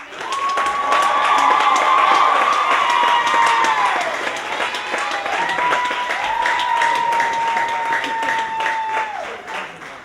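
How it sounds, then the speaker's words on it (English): Loud crowd applause mixed with long, high cheering and whooping for senior comedy sports players at an alumni match, sustained throughout and easing slightly toward the end. "give a big round of applause"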